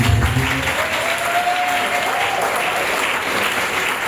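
Steady, loud applause from an audience acclaiming God at a Catholic spiritual retreat, a dense crowd clapping throughout with no break.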